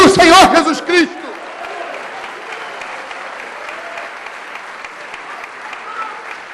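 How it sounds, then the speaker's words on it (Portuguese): A church congregation applauds after a sermon on Christian family life. A voice speaks briefly at the start, then moderate, fairly distant clapping continues steadily to the end. "Vocês podem aplaudir o Senhor Jesus Cristo."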